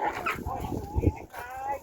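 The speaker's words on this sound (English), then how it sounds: "Dog's having a bit of an issue with two other dogs that's just been walking up" A dog on a walk reacts to two other dogs approaching, giving short close barks and yips mixed with whimpering, over a steady outdoor background.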